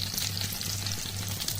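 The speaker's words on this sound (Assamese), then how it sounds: "অকণমান গৰম হওঁতেই মই জলকীয়াবোৰ দি দিম" Green chillies fry in hot oil in a pan, a dense, steady close sizzle with a low hum underneath and no voices.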